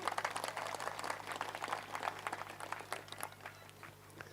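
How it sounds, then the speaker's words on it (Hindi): An audience at a live Ramayan singing competition in Piparbhatta gives a round of applause for Sahu ji: steady, close crackling claps that thin out toward the end over a faint electrical hum. "साहू जी के लिए जोरदार ताली बजाओ।"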